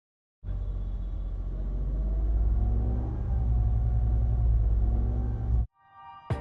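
Maruti Swift 2024 three-cylinder engine idling, heard from inside the cabin as a steady low rumble with faint harmonic hum, continuous and fairly quiet before cutting off abruptly near the end.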